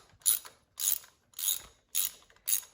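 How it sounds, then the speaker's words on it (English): Socket wrench ratcheting to loosen a tight bolt: five bursts of clicking, each about a quarter second long, evenly spaced with short pauses between, close and crisp with no talking. "you can take the socket wrench off and just spin your extension in here until it is all the way loose"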